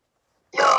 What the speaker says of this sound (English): today we're going to be belching for you guys